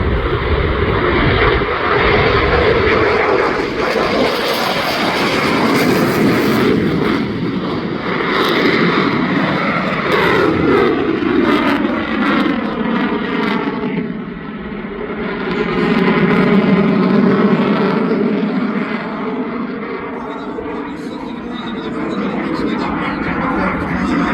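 At an airshow, a fixed-wing aircraft performs a touch and go. Its loud engine roar holds steady and shifts in pitch as it passes close by, while an announcer talks over the PA.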